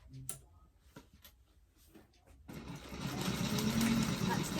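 A sewing machine stitches through many layers of a bag at a slow pace: after a quiet stretch with soft handling noises, a steady whirring hum starts halfway through and runs on to the end.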